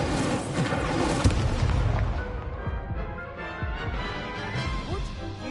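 An Incendio fire spell cast in the video game Hogwarts Legacy bursts as a dense roaring whoosh with crackling impacts, loud and sustained before gradually easing, with no talk over it.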